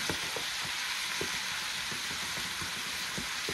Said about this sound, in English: Okay, my meat start browning